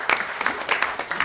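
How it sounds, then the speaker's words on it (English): A brief burst of clapping from a small group at a town council meeting, dense and close for just over a second. "Give her a round of applause."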